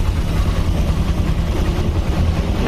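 A Mitsubishi L300 idles nearby with a continuous low rumbling drone, steady and fairly loud, and nothing else rises above it.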